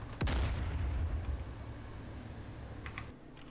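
A tank cannon in DCS: Combined Arms fires once at long range with a heavy boom and a long rumbling decay, followed by a few faint keyboard clicks.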